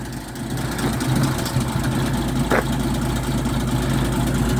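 Engine of a 1968 Bedford J Type truck idling steadily, a low even rumble close by with a brief click partway through.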